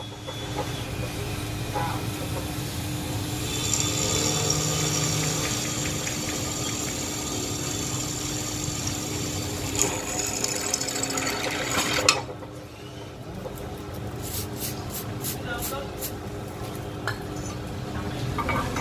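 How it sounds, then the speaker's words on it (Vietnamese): A one-metre-tall Hitachi bench drill press runs with a sharp bit, giving a steady motor drone with grinding and scraping. The sound drops away abruptly partway through, leaving quieter workshop clatter. "Khoan nó nhẹ nhàng hơn và không bị dính mũi."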